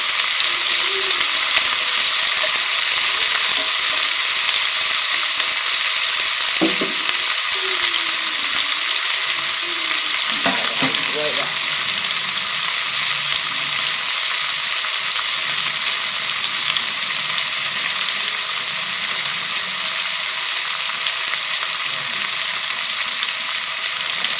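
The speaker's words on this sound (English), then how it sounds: "Put 8 ounces of onion. And get the nice little saute going." Eight ounces of onions sauté in a pan for a chicken paprikash, giving a steady, loud, close sizzle throughout, with a few brief clinks and scrapes of stirring.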